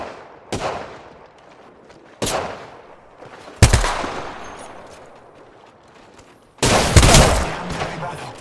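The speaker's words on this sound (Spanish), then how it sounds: "Lo están disparando." Four separate bursts of gunfire from Apex Legends crack out, spaced apart with echoing decays between them, the last burst longest and loudest.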